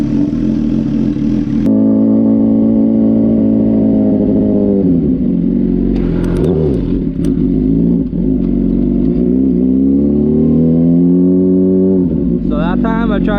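Motorcycle engine revving hard and dropping while the rider drifts it in first gear in a parking lot, loud and close, with someone talking over it.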